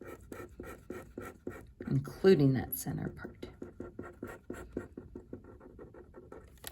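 A pen shading in sections of a Venn diagram on paper, a rapid, rhythmic back-and-forth scratching of strokes that continues throughout, with a person talking over it.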